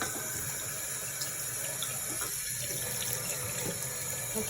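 Tap water runs steadily into a kitchen sink, rinsing away lemon oil and baking soda scrub, a constant close splashing flow with no talk.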